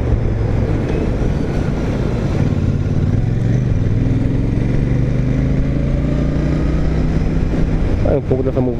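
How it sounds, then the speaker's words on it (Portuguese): Busy car traffic on a city road, heard from a stable motorcycle riding through it: a dense, steady engine rumble with rising and falling revs, continuous and fairly loud throughout. "Um pouco dessa muvuca de carro"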